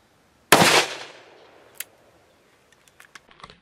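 A single sharp gunshot from a Smith & Wesson Governor revolver firing a Hornady Critical Defense .410 shell at five yards, a loud close blast decaying quickly, followed by a few faint clicks and taps.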